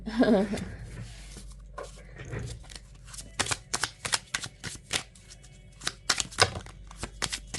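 A deck of tarot cards is shuffled close by, with a burst of riffling at the start followed by many quick, uneven slaps and flicks of cards, fairly quiet and with no talk.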